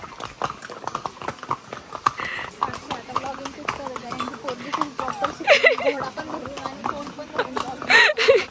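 Horse hooves clip-clop in a steady, quick rhythm close by at Matheran hill station, while voices talk over the footfalls throughout.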